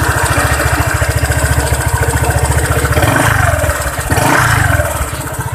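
A 2018 Honda PCX scooter engine with 46,000 km of use runs close by, a steady pulsing idle that swells into a couple of brief revs before settling back.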